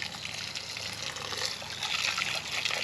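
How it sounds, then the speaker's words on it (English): A garden hose sprays water over turtle tank filter parts, producing a continuous close hiss and splash of rushing water that grows slightly louder toward the end. "I'm gonna take my hose and start rinsing all this stuff out."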